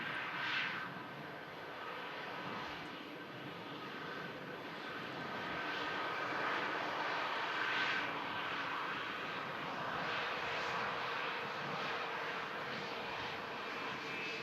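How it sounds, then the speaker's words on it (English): Air France Airbus A220 jet landing at Manchester Airport after arriving from Paris Charles de Gaulle, a steady broadband engine roar that swells gradually toward the middle and holds, fairly near, with no talking. "Air France, Airbus A220 coming in from Paris, Charles de Gaulle."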